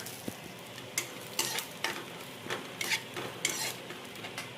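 Cumin seeds sizzling in oil over a low gas flame, a soft steady fry broken by repeated scraping stirs of a spoon against the pan, close and fairly quiet.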